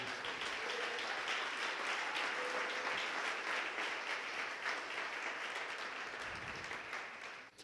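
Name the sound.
congregation applauding in church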